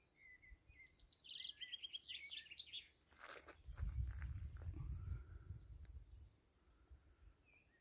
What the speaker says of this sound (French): Juste les petits oiseaux et moi.